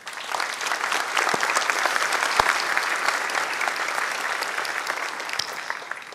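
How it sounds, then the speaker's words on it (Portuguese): A conference audience at a Brazilian project management congress breaks into applause, a steady, moderately loud burst of many hands clapping alone, with a few sharper individual claps standing out. "vou pedir um aplauso para eles"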